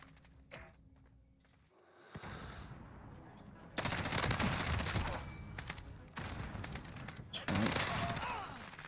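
LMG and shotgun fire in a first-person shooter video game, with bursts of rapid automatic shots and heavier blasts in loud clusters, mixed with mechanical clicks and a voice talking over the action.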